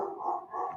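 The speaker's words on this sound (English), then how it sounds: "my dogs are barking." Dogs barking indoors at a moderate distance, a pair of quick overlapping woofs with no talk over them.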